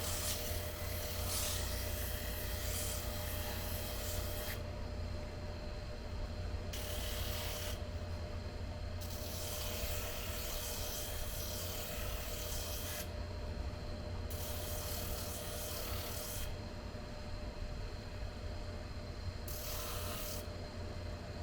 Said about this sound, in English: Now you don't want to push hard on the sander.